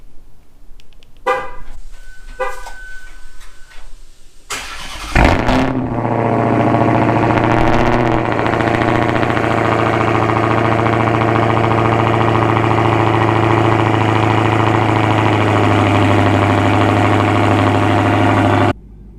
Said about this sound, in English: But first, let's do a cold start. It's 7 degrees outside, so you know it's gonna be loud.